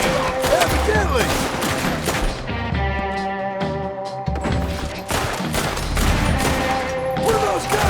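Dense, loud gunfire from a Red Dead Redemption 2 shootout, with overlapping rapid shots and booms that run without a break and bury the sparse background voices.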